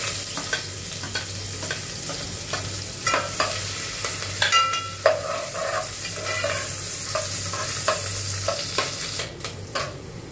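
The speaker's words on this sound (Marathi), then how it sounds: "कढीपत्ता छान तळला की आता आपण कांदा घालायचा" Onion frying with curry leaves in an oil pan for a spiced capsicum (simla mirchi) curry, a steady close sizzle broken by frequent spoon-scraping clicks, under a low steady hum, with no talking.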